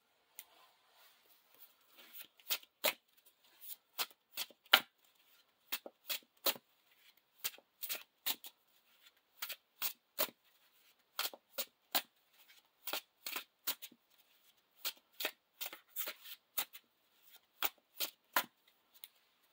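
A player riffle-shuffles a card deck for a Lord of the Rings living card game, sharp papery riffles and cascades repeating in bursts with short pauses, close and fairly quiet, no talk.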